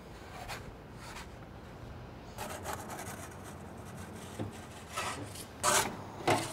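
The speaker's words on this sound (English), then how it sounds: "take your Parmesan and just grate it super fine right there on top." Parmesan cheese is grated finely over a calzone from a wood-fired oven, making soft, short scratchy rasps that grow stronger toward the end over a steady background hiss, with no talking.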